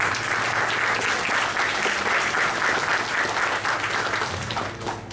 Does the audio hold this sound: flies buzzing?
no